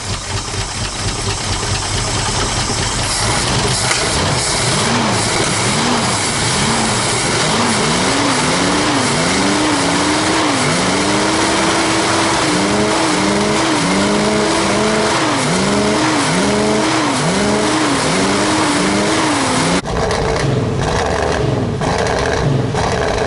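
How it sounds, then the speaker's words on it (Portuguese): A Ford Maverick V8 with a false air intake, an electrical current leak and poor carburetion idles roughly up close, its loud, uneven lumpy pulses wavering throughout before the sound abruptly shifts near the end. "pelo menos na marcha lenta, às vezes ele resolve ficar ligado."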